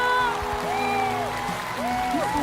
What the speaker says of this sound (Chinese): 荣耀定格，掌声再起。